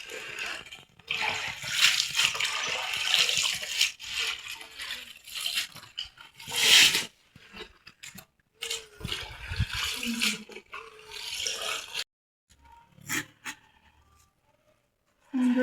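Sandy fish and leafy greens are washed in water in a village kitchen, with splashing and sloshing coming in uneven bursts separated by short pauses, and a brief quiet stretch near the end.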